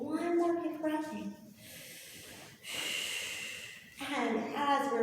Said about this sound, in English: just take one more big breath in